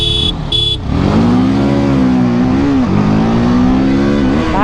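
A TVS Apache RTR 310 and a Bajaj Pulsar N250 launch in a drag race. After two short beeps, a loud, close engine roars up and climbs steadily through the revs, dipping briefly at a gear change before rising again.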